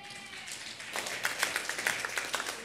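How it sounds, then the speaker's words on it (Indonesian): A church congregation at a prayer rally breaks into applause, soft at first and then building into a dense burst of many hands clapping, moderately distant. "Tepuk tangan."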